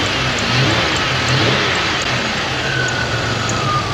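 A car engine runs steadily and close by with a slight swell in revs, a continuous mechanical hum with no one speaking.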